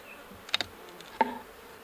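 Honey bees buzzing around an open hive during winter preparation, a few brief close passes rising and fading over a low quiet background.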